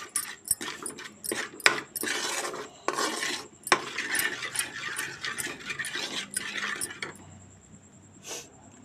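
A spoon repeatedly scrapes and stirs spice masala through murrel fish pickle in a metal vessel, making a steady series of rasping, clinking strokes close by.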